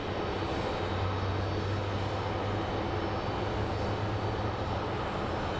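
A Mesa Airlines airliner pushes back at an airport, giving a loud, steady engine drone with a constant low hum and broadband roar that holds unbroken throughout.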